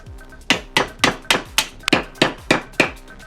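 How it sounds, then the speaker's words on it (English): Hammer strikes chip excess wood off a carved wooden bomb, nine crisp close blows in a steady, fairly quick rhythm. "Then I redraw the circle as best as possible and chip off any excess."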